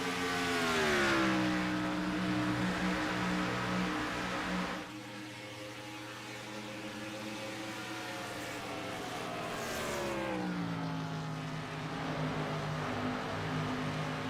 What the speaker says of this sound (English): as you could hear the cars letting off